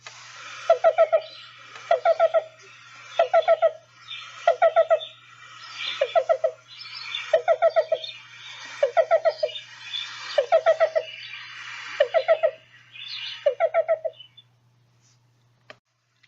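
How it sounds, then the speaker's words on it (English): Black-billed cuckoo song: a steady series of about a dozen short phrases, each a quick run of soft hollow coo notes, repeated at regular intervals from fairly close by against a quiet background. "Here's a couple examples of black-billed cuckoo songs"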